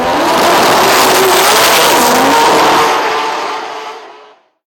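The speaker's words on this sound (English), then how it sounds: "That was pretty good drifting footage." Drift cars racing and sliding, a loud roaring wash of engines and screeching tires that holds for about three seconds before fading away into silence.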